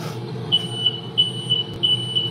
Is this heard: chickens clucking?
no